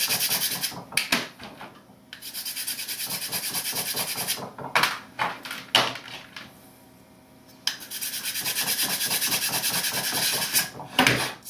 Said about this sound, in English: scratch up the side of the servo opposite of the horn. It'll be this side here with a little bit of sandpaper